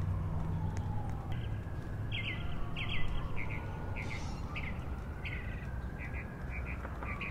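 A thrown raven in the Roblox game Heroes Online World gives repeated short chirping calls, spaced unevenly over a steady noisy backdrop of game sound.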